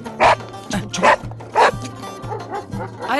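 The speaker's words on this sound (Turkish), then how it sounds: "Ayol bu köpek niye havlıyor bu gece böyle?" A dog barks outside at night in several loud, sharp barks spread across the clip, with a voice speaking briefly and rhythmic music playing underneath.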